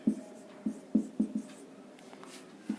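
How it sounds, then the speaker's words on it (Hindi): Chalk or marker strokes on a board come in short scratchy taps, a handful of quick rhythmic marks followed by a longer faint scrawl. "तो आपको साइड में लिख दे रहा हूं"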